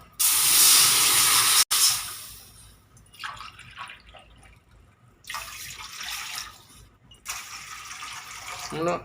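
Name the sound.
water poured into hot pan, sizzling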